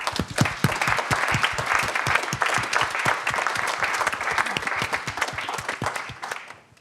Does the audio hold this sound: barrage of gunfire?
no